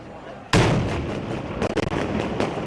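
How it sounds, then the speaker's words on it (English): Flash grenades and rubber bullets fired by American security forces at the US embassy in Baghdad: a sharp loud blast, then a string of rapid pops and bangs from the nearby crowd. "American security forces deploy flash grenades and rubber bullets."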